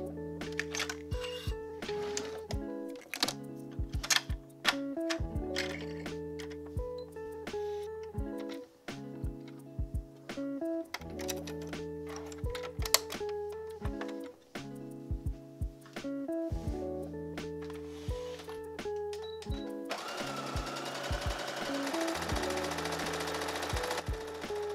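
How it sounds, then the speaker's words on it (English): Sewing machine stitching in repeated bursts, a rapid mechanical rattle starting and stopping, then a longer continuous run near the end. "now here's some sewing machine ASMR for you guys"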